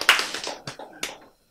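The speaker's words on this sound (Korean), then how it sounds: "박수를 이제는 제일 먼저 치는 사람이 저기 한 분 나타났어." A lone audience member claps in a lecture hall, a handful of sharp hand claps in an uneven rhythm with short gaps, close and clear, ending in silence.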